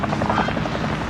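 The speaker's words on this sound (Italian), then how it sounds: "Elicottero." A helicopter in a Call of Duty battle royale match makes a steady, loud, throbbing rotor drone that continues without a break.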